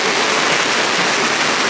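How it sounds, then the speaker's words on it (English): Heavy rain pours steadily at a campground in the Catskills, a loud, dense, unbroken hiss of water drumming on surfaces, close and constant with no other sounds. "yeah, it's coming down pretty good"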